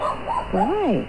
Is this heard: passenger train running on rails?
no